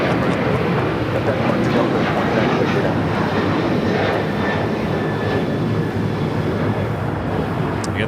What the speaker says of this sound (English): that flight heading to New Orleans. Taking off here on the south side, 25 right